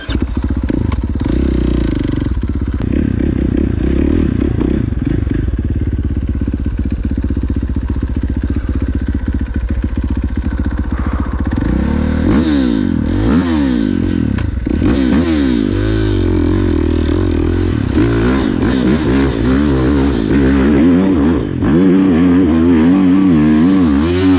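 A motorcycle climbing a steep, sketchy hill on the East Coast, engine loud and continuous with repeated revving surges and rapid throttle changes, clattering over rough ground close by.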